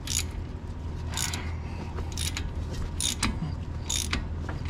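A wrench ratchets in repeated clicking bursts at about one-second intervals while breaking loose Loctite-coated bolts on the front brakes of a 2017 BMW X1, close up, with no speech.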